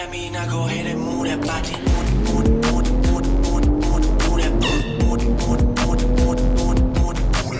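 A sixth-generation VW Golf R, with a boost fault above 4,000 rpm, pulls hard through the gears, its engine note rising and dropping at each shift over a loud, continuous turbocharged roar with tire noise.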